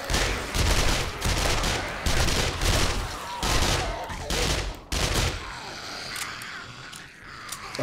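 Gunfire in the zombie survival game 7 Days To Die, near a horde base: repeated loud bursts of rapid shots in uneven clusters, close and dominant, tapering into scattered quieter shots toward the end.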